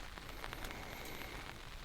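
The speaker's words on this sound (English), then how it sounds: "It's a wet morning. It's raining out there." Rain falling outside a hot tent on a wet morning at a wild camp, a soft continuous patter of drops with faint scattered taps, steady and quiet.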